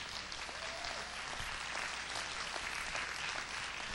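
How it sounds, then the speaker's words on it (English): Steady applause from a church congregation honoring a couple married 63 years, a dense continuous wash of clapping that holds at an even level throughout, fairly distant and without talk. "that's worth applauding right there"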